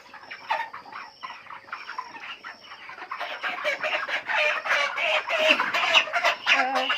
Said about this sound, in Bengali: তো দেখ চলো আজকে মুরগিগুলো ধরছি।